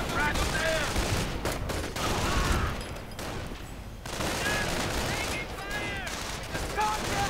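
Rifle and machine-gun fire from a WWII strategy game skirmish between Luftwaffe ground troops and riflemen, dense overlapping bursts and rattling volleys throughout, with a commentator talking over them.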